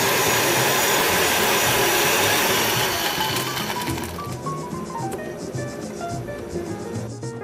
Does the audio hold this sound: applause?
no